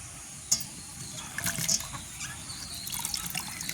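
Vegetables being washed by hand in water in a village kitchen, with soft trickling, sloshing and occasional light splashes, faint and close, a sharp clink near the start.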